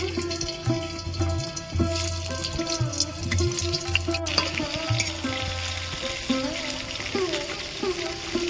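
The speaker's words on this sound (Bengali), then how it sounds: "ওই তেলের মধ্যে আমি আলুগুলো ভেজে নেব" Potatoes fry in hot oil in a home kitchen for a Bengali-style chicken curry, a steady close sizzle mixed with scraping and clinking of a utensil, no talking.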